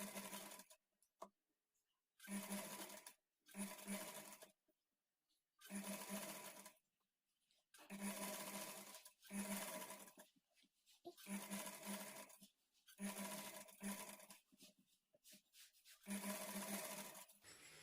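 A sewing machine stitches a blouse lining in repeated bursts of fast mechanical whirring, each run a few seconds long and separated by short pauses, close and alone.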